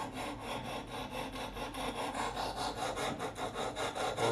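A knife blade is sharpened on a TSPROF Pioneer guided sharpener, giving a steady rhythmic rasping from repeated back-and-forth strokes of the stone, close and alone.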